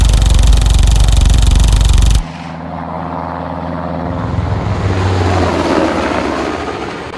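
A helicopter sound effect in a lesson about police constable exams plays a loud, dense rotor and engine roar that cuts off abruptly after two seconds, then gives way to a quieter, lower whirring drone.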